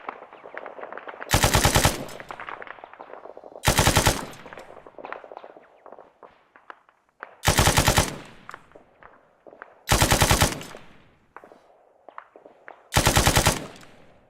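Long machine gun bursts from ArmA 3, loud and close, come in five separate volleys of about a second each, with quieter shuffling, movement and distant game noise filling the gaps between them.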